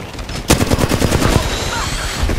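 Rapid automatic gunfire in the Apex Legends shooter game, a dense burst of shots starting sharply and continuing steadily at close range, with a voice speaking briefly in the mix.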